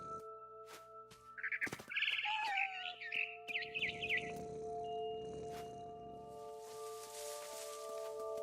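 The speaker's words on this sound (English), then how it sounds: "It was a barn swallow going back to her nest." A barn swallow in What Remains of Edith Finch gives a quick run of bright, twittering chirps close by, set among a few sharp clicks and knocks, then falls away to a steady hum and soft rushing ambience.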